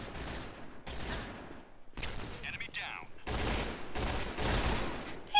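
Rapid gunfire from the first-person shooter Point Blank: Strike, in loud, close bursts of quick shots separated by short pauses, with a brief quieter gap in between.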